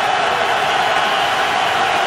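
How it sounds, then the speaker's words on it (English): A football stadium crowd roars loudly and steadily on a third down, a dense continuous wall of cheering and noise with no breaks. "Giant D telling the crowd to get loud."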